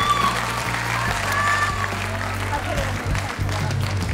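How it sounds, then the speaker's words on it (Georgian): Studio audience applauding at a televised singing competition's knockout round, a steady dense clapping wash that runs unbroken for the whole stretch with a low hum underneath. "გავაცილოთ აპლოდისმენტებით."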